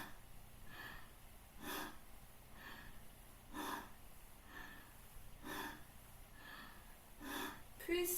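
Slow, quiet breathing during a breathing exercise, audible inhales and exhales repeating about every two seconds, faint and close in a hushed room.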